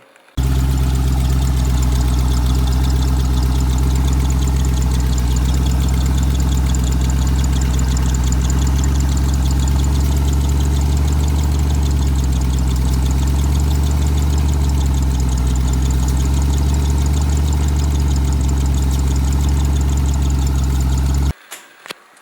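A big turbocharged V8 idles steadily for about twenty seconds, a loud, close, deep rumble with a constant low throb that cuts off abruptly at the end.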